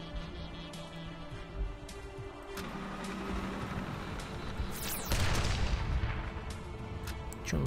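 Artillery fire in the strategy video game Codex of Victory sounds as a few booming shots and a louder blast with a lingering rumble, under a constant game background.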